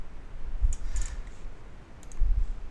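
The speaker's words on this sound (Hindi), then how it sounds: "हमने एंटर प्रेस किया" Keys are pressed on a computer keyboard, ending with the Enter key, giving a few quiet, close clicks spaced apart in a still room.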